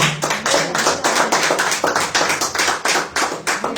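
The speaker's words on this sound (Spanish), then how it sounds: "Den un aplauso al Señor." Church congregation clapping in praise, loud and close with a rhythmic, pulsing beat of many hands, almost no talk.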